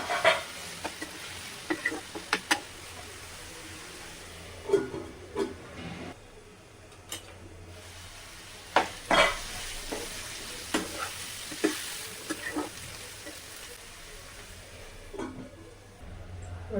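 Vegetables for fried rice cook in a pan on medium flame with a steady low sizzle, broken by scattered sharp clinks and scrapes of stirring, heard close.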